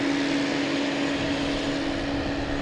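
A JetBlue Airbus A220 jet rolls after landing, its engines giving a loud, steady roar with a sustained tonal whine, continuous and fairly close, with no talking.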